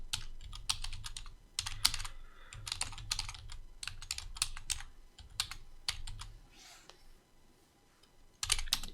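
Crisp, close keystrokes on a computer keyboard, bursts of quick typing interspersed with single taps of the arrow keys, separated by short pauses in a quiet room.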